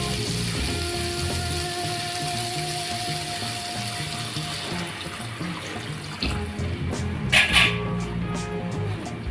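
Water runs steadily into a pan of mixed potato and field bean vegetable mixture for a Maharashtrian colocasia curry, a continuous close pouring hiss with a few clinks near the end.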